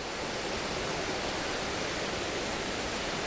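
A waterfall roars in a steady, dense wash of rushing water that stays even and unbroken throughout, with no voices over it.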